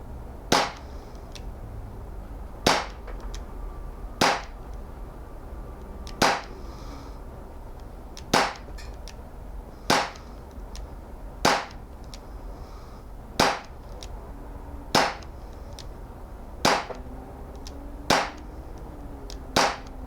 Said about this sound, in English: Right now, shooting the Luger P08 with the target